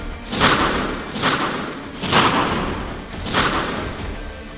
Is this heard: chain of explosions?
yes